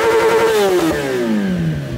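A motorcycle engine starting up and revving, loud and close, the pitch climbing and then falling away over about two seconds.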